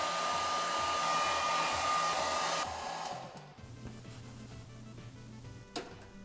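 A hair dryer blows on a washed computer hard drive, a loud, steady close-up whir for about two and a half seconds before it switches off, leaving a quieter background hum.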